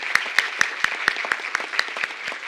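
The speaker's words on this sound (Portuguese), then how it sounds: "os 3 merecem aplausos um pouco mais para reforçar." At an award ceremony for the Espírito Público prize in 2018, the audience claps in a steady, evenly spaced rhythm, close and fairly loud, with no voices over it.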